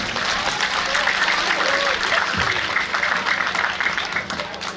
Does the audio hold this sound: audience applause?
yes